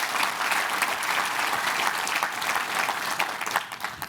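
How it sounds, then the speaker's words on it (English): An audience at a medical school event gives a big round of applause, dense steady clapping from many hands, close and loud throughout, with no voices over it. "let's give them a big thank you, a big round of applause"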